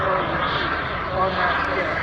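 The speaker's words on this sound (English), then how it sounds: "this up here is reducing afterburner" Model jet aircraft powered by a King Tech 320 jet engine roaring at an airshow as it reduces afterburner, a loud steady jet rush heard under an announcer's commentary.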